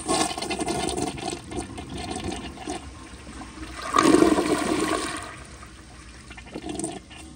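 A 2001 American Standard Cadet toilet, fitted with a mismatched tank and a sticking flapper, flushes with a rushing swirl that swells midway, then drains and settles into a quieter trickle of refilling water.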